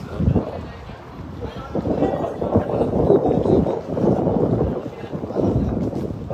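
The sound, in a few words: wind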